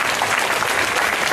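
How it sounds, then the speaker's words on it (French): An audience at an anime convention panel claps loudly and steadily, a dense wash of applause from a crowd with no break throughout. "Vous pouvez applaudir aussi."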